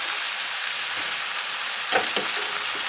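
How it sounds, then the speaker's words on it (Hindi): Pomelo (chakotra) pieces frying in hot oil give a steady, even hiss with a couple of small crackles near the end. No one speaks. "तो ये देखो भाई इसमें मैंने डाल दिए ऑयल में चकोतरे,"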